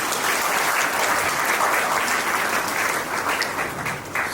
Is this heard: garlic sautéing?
no